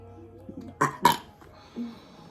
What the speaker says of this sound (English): that burp's going to end up on YouTube for everyone to see